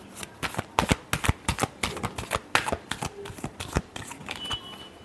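A deck of tarot cards is shuffled close up, a rapid run of crisp riffling flicks and soft slaps in uneven bursts, with no speech.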